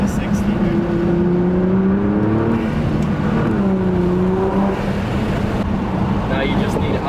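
A Nissan GT-R R35 fitted with an AAM intake accelerates hard from a standstill to 60 mph, its engine note rising in stepped pulls through the gears, heard from inside the cabin with people talking over it.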